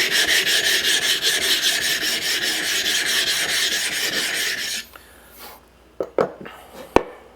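A blade is rubbed back and forth on a coarse Omura Japanese natural whetstone in fast, steady gritty rasping strokes, close and clear, then stopping; a few sharp knocks and handling clatters follow.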